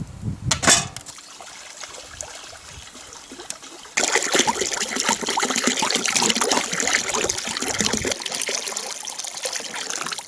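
Water from a trickling stream being gathered outdoors at a campsite, a steady close bright splashing and pouring wash that starts abruptly after a few seconds of quiet and runs continuously to the end.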